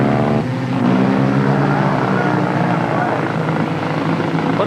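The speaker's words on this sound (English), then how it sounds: "What am I hearing there? Is that a car?" A race car engine at a 1991 dirt speedway in Creek County, Oklahoma, droning loud and steady with an odd whirring, helicopter-like tone, a sharp change in pitch near the start.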